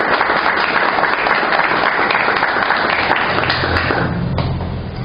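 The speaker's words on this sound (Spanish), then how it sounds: "Denme un fuerte aplauso." A church congregation at a worship service claps in a loud, sustained burst of applause filling the room, dense and continuous before tapering off near the end.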